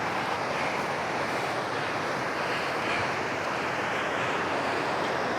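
Steady broadband rush of the Braamfontein Spruit river flowing over a neglected stretch once walled as part of a farm, a continuous even wash with no breaks and no voices.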